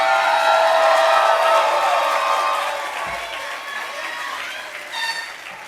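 A large audience at a law school celebration cheering and applauding loudly, with dense clapping and shouts that slowly ease off over several seconds.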